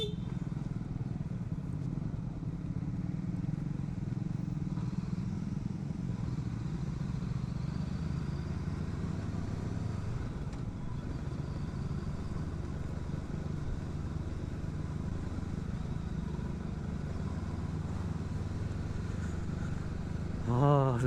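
Honda NX500 motorcycle riding on the road, a steady low engine drone with wind rumble that holds evenly throughout, close and fairly loud, with no talk over it.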